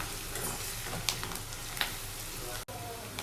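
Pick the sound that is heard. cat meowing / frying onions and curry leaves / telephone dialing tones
frying onions and curry leaves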